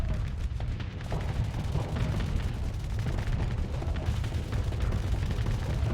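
Spaceship cannons fire in a space strategy video game, a continuous barrage of rumbling booms and crackling blasts layered densely throughout, with no speech.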